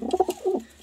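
Pet pigeons in a home loft, cock and hen, giving a brief run of soft, close cooing notes with no talk over them.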